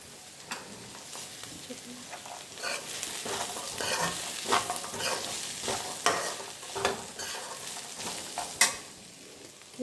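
Soaked chickpeas stir-fry in a pan for a carrot curry, with a soft steady sizzle broken by scraping spoon strokes and light clinks, fairly quiet and close.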